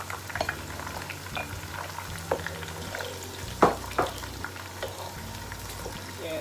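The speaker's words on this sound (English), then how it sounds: "Then you add your pepper mix. That's the pepper mix there going in." Pepper mix goes into a hot frying pan for Nigerian chicken stew, giving a quiet bubbling sizzle with a few soft clinks and stirring scrapes close by.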